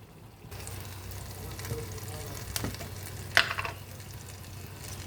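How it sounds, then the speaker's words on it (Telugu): Green chillies frying with ginger garlic paste in a pan over a low flame for chicken curry, giving a steady close sizzle with a few brief clatters and one sharp spatter midway, no talk. "పచ్చిమిరపకాయలు వేసుకుంటున్నాం"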